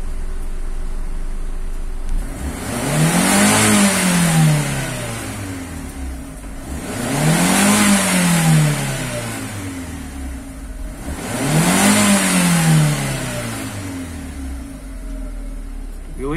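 A Fiat Uno engine is revved three times to about 5,000 RPM, each rev rising and falling in a smooth sweep with idle in between, loud and close with no talking.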